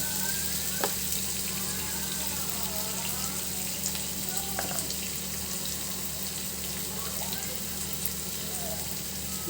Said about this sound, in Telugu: వేసి బాగా బ్రౌన్ వచ్చేటట్టు మనం ఫ్రై చేసుకుందాము.